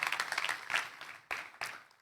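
A small audience at an event claps, with a brief burst of fairly faint, distant applause that fades and then returns in short spurts.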